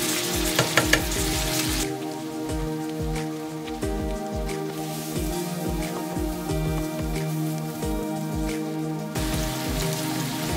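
A curry base with turmeric for Nepali-style mutton curry fries steadily in a pan, giving a continuous dense sizzle with small crackles and occasional stirring, with no talk.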